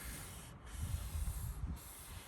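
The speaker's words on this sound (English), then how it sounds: "spread out your sanding so that you don't put a dip wherever you sand" Hand sanding of Bondo body filler with sandpaper on a 7x12 cargo trailer camper conversion: a steady, close, rasping scrub with a slight back-and-forth swell, alone and without talk.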